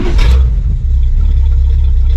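A 1987 GMC Suburban engine fitted with an Evil Energy carburetor revs up sharply and settles into a loud, deep, rumbling idle, heard close and alone.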